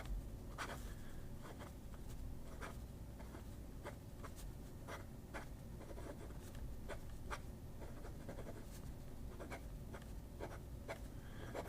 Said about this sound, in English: Okay, so this is my Pilot. Let's see if it writes.